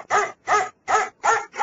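Dogs at a rural house barking to greet an arriving visitor, four sharp, evenly spaced barks, loud and close, with no talk over them.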